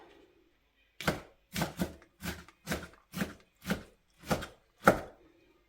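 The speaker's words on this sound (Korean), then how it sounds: "숙주 삶은 거 곱게 썰어야죠." Boiled bean sprouts being finely chopped with a knife on a board: eight distinct, evenly spaced thuds, close and clear in a quiet room.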